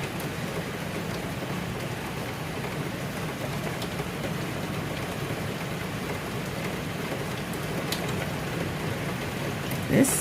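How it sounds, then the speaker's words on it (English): Heavy rain downpour outside a window near a barn, a steady, broad hiss that holds evenly throughout, muffled and moderately loud indoors. "We are now experiencing a downpour out there."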